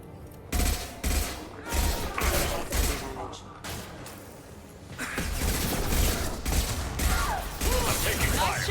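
Bursts of gunfire in a Mass Effect 2 firefight, rapid volleys and clattering mechanical shots repeating loudly across the scene, with a voice talking over the combat.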